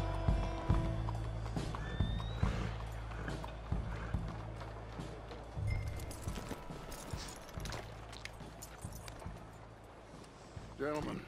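A horse trotting and then being hitched in the western game Red Dead Redemption 2: clear, rhythmic clip-clop hoofbeats with tack and mechanical rattles, while voices talk over them.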